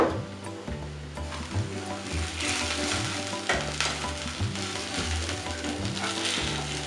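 Stuffed kantoli, a monsoon vegetable, frying in a pan with a loud, steady sizzle and crackle, joined by periodic scraping and stirring sounds from a utensil.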